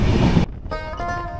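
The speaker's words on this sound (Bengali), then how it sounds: "যতই ট্রেন দ্রুত গতিতে ছুটছে মালবাজারের পথে" A train runs along a forest railway in the Dooars toward Malbazar. A short burst of rushing rail noise gives way to a thinner ringing, whining tone.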